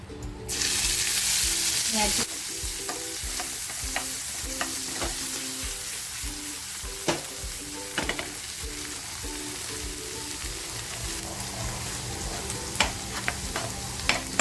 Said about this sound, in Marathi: हा जो टेचा केला आहे ना अद्रक लसूण कोथिंबीर मिरचीचा तो मी तेलात टाकते मच्छी फ्राय केलेलंच तेल आहे